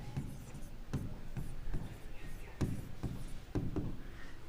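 Chalk or pen writing on a board or paper while working a geometry problem on a trapezium, giving repeated short scratchy strokes in an irregular rhythm, close and moderately loud, with no talking.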